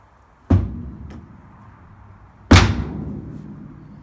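A classic Mini Clubman car door is shut twice, two sharp solid thuds about two seconds apart, close by in a quiet garage with a faint click between them.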